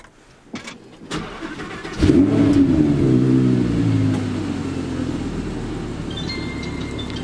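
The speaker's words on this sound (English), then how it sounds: "You can hear that beautiful V10." An Audi R8's V10 engine cranks and catches with a couple of sharp starter clicks, then flares into a loud rev before settling to a rich, steady idle, close up on a chilly day.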